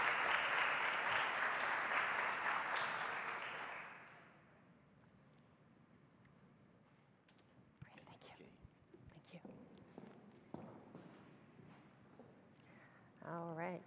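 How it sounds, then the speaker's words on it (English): Audience applause at the SLA Summit 2023 for MIT professor Cynthia Breazeal, loud and dense for about four seconds, then fading into a quiet room with scattered noises and a faint voice near the end. "Please give her a nice round of applause."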